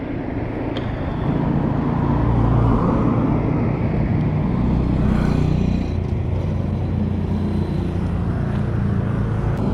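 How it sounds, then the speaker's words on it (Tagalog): Steady road traffic near the NLEX-SLEX connector road amid house demolitions, a continuous loud wash of passing car and engine noise holding for about ten seconds with no voices over it. "traffic."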